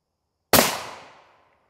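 A single sharp rifle report from an armor-piercing incendiary round striking a Level IV shield plate, one loud crack that decays over about a second.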